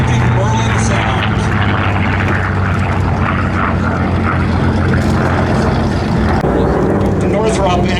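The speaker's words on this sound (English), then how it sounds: "Distinctive Merlin sound." A P-51 Mustang with a Merlin engine makes a flyby at the Planes of Fame airshow, a loud sustained propeller drone that swells and fades under an announcer's commentary.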